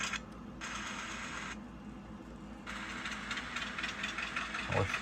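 A Piko Whitcomb N scale model locomotive runs along its track, making a steady, faint motor whir and light rattle close by that continues without a break.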